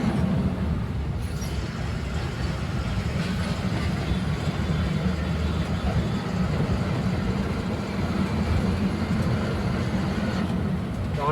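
A train rolls past near the Farakka bridge, a steady rumbling roar with rail clatter that stays loud and continuous throughout, with no voices.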